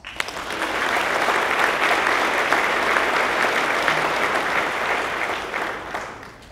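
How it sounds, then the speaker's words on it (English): Warm, sustained applause from an audience at a director's breakfast following a student keynote introduction, a dense steady wash of many hands clapping that swells quickly and holds for several seconds before tapering. "I think that deserves a warm round of applause"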